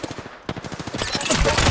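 Rapid automatic gunfire in the video game Fuse, dense close bursts of shots rattling in quick rhythm and building louder toward the end.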